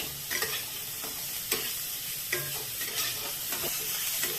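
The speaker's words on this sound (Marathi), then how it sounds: "हे आता कांदा गुलाबी कलरवर आपण परतून घेतलाय" Onion and green chilli pieces sautéing in a pan until the onion turns pink, a steady soft sizzle with scattered scraping stirs, moderately quiet and close, with no talking.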